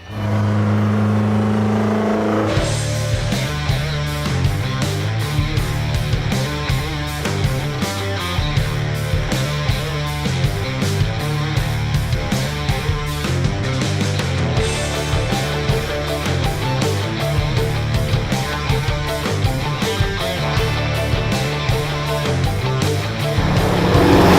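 An old diesel truck engine rumbles loudly and continuously, its deep throb rising and falling as it revs through the gears.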